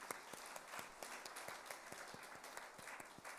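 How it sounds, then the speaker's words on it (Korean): Steady applause from a church congregation, a dense wash of clapping with a few sharper individual claps standing out, continuing evenly throughout. "목사님과 찬양팀을 우리 박수 한번 하겠습니다."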